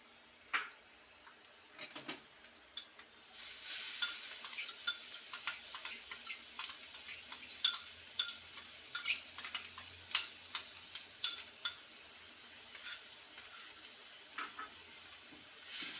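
Grated carrot being stirred with fried ginger in a pan, a steady run of soft scraping ticks and clinks from the utensil over a faint sizzle, fairly close, with no talking.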